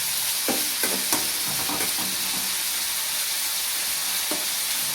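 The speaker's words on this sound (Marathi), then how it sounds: "कांदा आपला परतत आहे." Chopped onion sautés in a pan with a continuous sizzle, close and clear, broken by several short scraping clicks of a spoon stirring, and no one talking.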